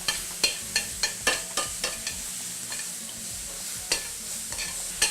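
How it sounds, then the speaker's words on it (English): Diced strawberries and shallots sautéing in a pan, a soft steady sizzle broken by a run of sharp, regular stirring clacks of a utensil against the pan, close and clear, slowing toward the end. "And we'll start by adding our diced strawberries and our shallots. And we'll give them a quick saute."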